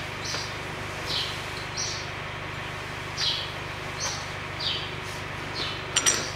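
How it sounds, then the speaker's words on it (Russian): Small birds chirp outdoors in short, separate calls spread through a steady background hiss, heard from a moderate distance while a 2000 Toyota Duet has its front stabilizer bushings replaced. No one speaks. "Хорошо, птицы поют."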